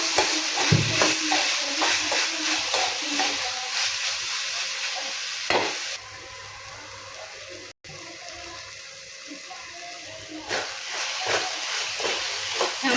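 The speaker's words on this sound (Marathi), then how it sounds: "तो त्यामध्ये आपण मिक्स करून घेऊया. छान स्मॅश करून घेऊया सर्व." A large red tomato being stirred and mashed into paneer bhurji in a pan, with soft scraping and squelching over a steady sizzling hiss and no talking.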